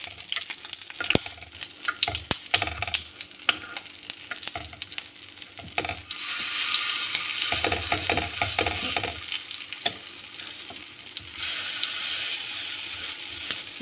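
Cutlets fry on a non-stick pan with a steady, close sizzle that swells louder midway, alongside occasional clicks and scrapes from turning and pressing them.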